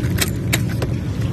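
A Toyota Vitz with an engine vibration fault has its ignition key turned to the on position, giving a few soft jangling clicks of the key and keychain over a steady low hum from the car.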